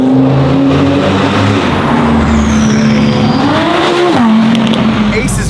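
A Lamborghini Murcielago engine drones loudly and close, its pitch holding steady, then rising and falling as it revs, with a faint tire-like screech high above and a voice speaking over it.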